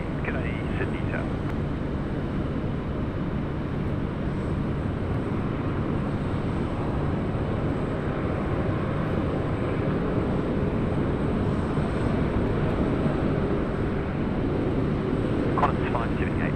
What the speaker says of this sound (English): Qantas 26. Haneda to Sydney, 330-300, now landing 16 right.